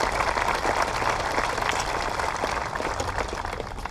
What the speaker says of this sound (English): Let's give everybody involved with this festivity a big round of applause.